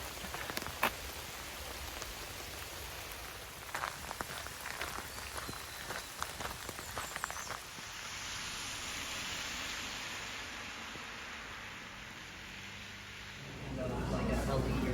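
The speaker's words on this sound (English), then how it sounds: "Raining." Rain falls steadily on a trail along the Appalachian Trail in Virginia, a broad continuous patter with scattered louder drops, growing heavier near the end; some talk and handling noises occur early on.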